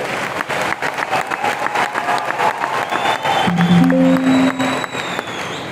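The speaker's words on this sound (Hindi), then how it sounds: "आप सब अपने खुद के लिए एक बार जोरदार तालियां करो." An audience at an achievers' celebration function in Nashik breaks into loud, sustained applause, dense clapping filling the hall with a few brief tones and faint voices mixed in.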